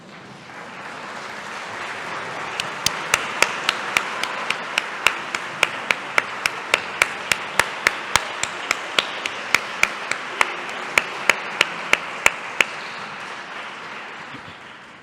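Conference audience at a EuroCALL opening ceremony in Milan applauds first-time attendees: a steady wash of many hands clapping for about fifteen seconds, with sharp individual claps standing out near the front.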